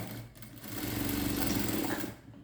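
Cloth being stitched on a sewing machine, whose steady rapid mechanical whirr rises after a brief start and runs continuously up close before tapering off at the end.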